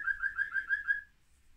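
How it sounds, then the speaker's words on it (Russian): A pet parakeet chirps indoors in a quick run of about six bright, evenly spaced tweets, fairly close and clear, before falling quiet. "Попугайчик с вами разговаривает"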